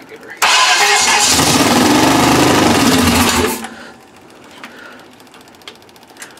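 A Mercury outboard motor with the choke not yet hooked up cranks and catches, then runs loud and steady for about three seconds before cutting out. Quieter clicks and handling noises follow.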